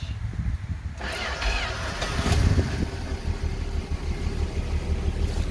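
A 1966 Dodge Dart with a clutch cranks and fires up after three pumps of the pedal, the engine catching around the one-second mark and settling into a loud, steady rumble close by, with no talk over it.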